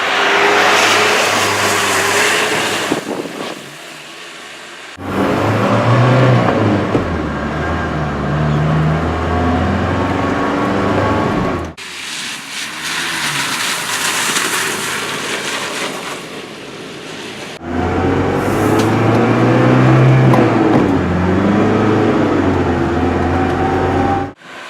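A 1987 Mercedes G-Wagen, slow and loud, drives down the road. Its engine drones and revs through gear changes, with a loud interior roar broken by brief quieter stretches between pulls.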